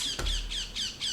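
A noisy bird gives repeated harsh squawks, four or five close, loud calls in a steady rhythm with a thump near the start.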